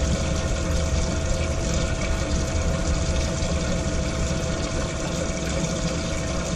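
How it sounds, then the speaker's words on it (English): A 500 gallon per hour livewell pump in a boat livewell churns and bubbles water continuously, a dense steady wash of splashing and aeration with a low motor drone underneath, close and loud throughout. "500 gallon per hour pump is strong enough to create"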